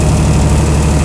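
A Chrysler Slant 6 generator engine fitted with Holley Sniper EFI idles with a loud, even, low mechanical thrum close up, a short steady stretch with nothing else heard.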